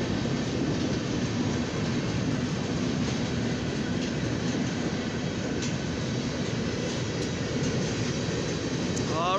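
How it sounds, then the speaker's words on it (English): A long northbound CSX coil freight train rolls steadily past a track in Lima, a loud continuous rumble and rail roar that holds at the same level from start to finish, with no talk over it. "This is a long northbound CSX train, coil train."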